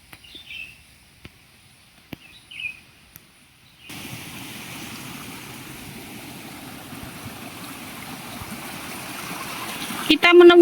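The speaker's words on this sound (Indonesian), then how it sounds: "Kita menemukan sumber aliran sungai lagi nih kawan. Bukan sumber sih, lebih ke sungai kecil-kecil ya." A small stream in wild forest flows with a steady, soft rushing that begins after a quiet stretch of sparse bird chirps and continues evenly, with a brief voice near the end.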